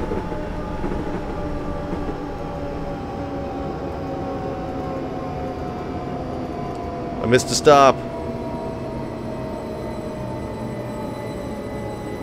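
Train in Train Simulator 2014, a steady low engine hum and rumble throughout, broken midway by a short, loud burst, with someone talking over it.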